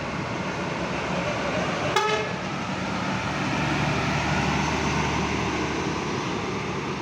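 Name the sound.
Harapan Jaya Patas bus arriving at the terminal, horn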